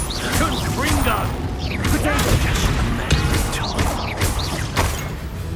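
A Confringo blasting spell fires repeatedly in Hogwarts Legacy amid a dense, loud battle mix of whooshes, crackling impacts and bursts, with a voice shouting over the din.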